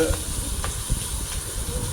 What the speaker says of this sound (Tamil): இப்போ நல்லா வதக்கலாங்க